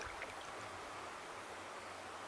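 A waterfall's rushing water roars continuously, a dense close wash of falling water with no other sounds.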